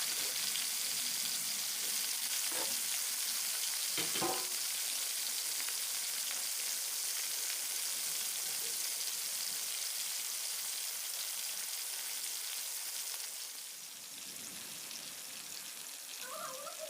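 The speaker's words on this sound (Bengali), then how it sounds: "কড়াইতে তেলটা গরম হওয়ার পর মাছগুলোকে ভেজে নেব" Koi fish fry in hot oil in a wok with a steady, dense sizzle and crackle that runs throughout, easing slightly near the end, with no one speaking.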